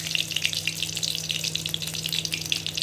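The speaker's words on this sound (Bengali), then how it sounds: "এবার তেলটা গরম হবে, এরপরে আমি এর মধ্যে দিয়ে দেবো ফোড়ন থেকে তেজপাতা" Bay leaf and spices sizzle in hot oil in a pan, a steady, close crackling fry with dense popping throughout and no talking.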